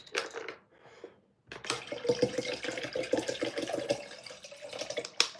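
Tap water runs and splashes into a sink in a continuous, fairly loud gush after a brief quieter start, with a sharp clatter near the end.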